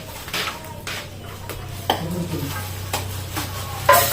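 Food sizzles and scrapes in a pan, with a spatula stirring and clinking against metal in irregular bursts over a steady hiss.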